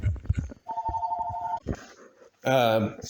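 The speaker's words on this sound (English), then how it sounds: "And that's the phone, guys." A telephone rings with a short steady electronic tone and then a second harmonic-rich ring burst, close and fairly loud, between bits of a man's speech.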